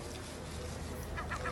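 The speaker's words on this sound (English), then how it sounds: "Fighting with other seagulls." Seagulls squabble over territory in the Irish town of Drogheda, a few harsh calls rising near the end over steady outdoor background noise.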